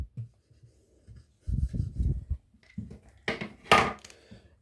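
Chalk or marker writing on a board in a physics lecture, with irregular close strokes and taps and a louder scratchy burst of strokes near the end, no talk over it.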